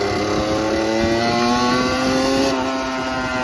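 A Derby motorcycle engine revs hard and close, giving a loud, buzzy, thin whine whose pitch climbs and holds at full throttle for several seconds.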